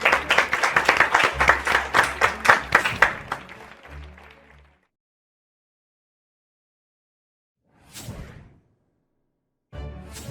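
A university quiz competition audience applauds during a semi-final. The clapping is lively at first, then thins and fades out within about five seconds, followed by silence broken by two brief soft noises.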